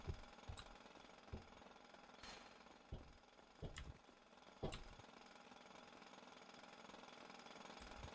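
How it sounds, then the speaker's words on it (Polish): Renovation drilling in walls next to a bank in Grand Theft Auto V, heard as a steady, fairly faint drilling rumble. Several sharper knocks and bursts break through it irregularly, with no talk. "Bo wiertła słychać."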